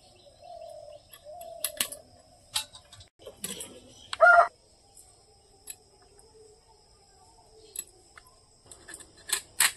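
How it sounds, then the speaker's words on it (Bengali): Scissors snip through small river crabs, giving sharp, irregular clicks and crunches scattered across a quiet background, with occasional bird chirps nearby. "এইভাবে আমি সব কাঁকড়াগুলোকে কেটে নেব"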